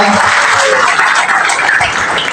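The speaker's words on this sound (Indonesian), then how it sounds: "Tepuk tangan untuk Bapak Bupati kita." An audience claps for the regent at a tourism-awareness outreach event in Ambarita village, Simanindo, Samosir. Dense, loud, steady applause fills the whole short burst without pause.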